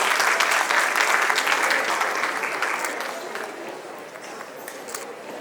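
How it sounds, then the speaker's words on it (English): At a national school debate and excellence awards event, the audience claps in a strong round of applause that starts dense and loud, then gradually thins and fades toward the end. "Ladies and gentlemen, give them a big round of applause"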